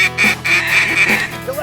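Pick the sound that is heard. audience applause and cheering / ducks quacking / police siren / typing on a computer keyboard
ducks quacking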